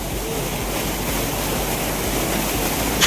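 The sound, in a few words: waterfall, fast-flowing water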